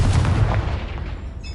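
In the Hogwarts Legacy video game, a Confringo explosion spell gives a loud, close, booming blast with a rumbling low-end tail that fades over about a second and a half.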